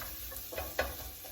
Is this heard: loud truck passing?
no